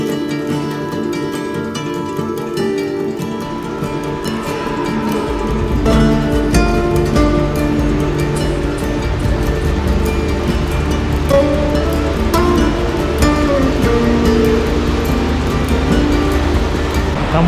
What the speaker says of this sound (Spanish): Supongo que ya se debe recontra escuchar la caída del agua.